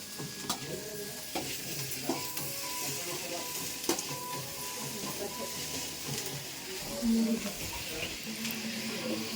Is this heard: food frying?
yes